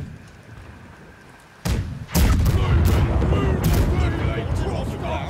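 Pirate ship cannons firing a volley in the naval game Blackwake: a string of loud, close booms in quick succession with rumbling tails, while voices talk over the action.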